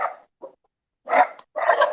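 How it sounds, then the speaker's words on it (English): A dog barks in short, separate bursts, a quick yip followed by two louder, rougher barks, close by, with no talking. "Damn dog."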